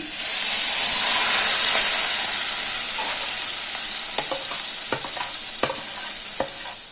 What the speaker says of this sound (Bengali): এই ম্যারিনেট করে রাখা মাছের ডিম মশলা সহকারে তেলে দিয়ে দিচ্ছি